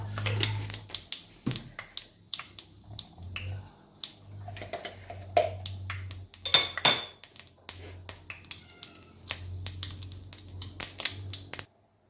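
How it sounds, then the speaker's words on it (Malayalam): Sharp crackles and pops scattered irregularly across the clip, like mustard seeds spluttering in hot oil, with a low hum beneath. "അപ്പം നമ്മുടെ കടുക് നല്ലപോലെ പൊട്ടിക്കഴിയുമ്പോൾ"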